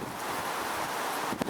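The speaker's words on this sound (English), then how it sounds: "As you can hear, it's quite a windy day today" Strong wind gusting outdoors on a day of wood pigeon airgun hunting, a continuous loud roar buffeting the microphone with a small burst near the end.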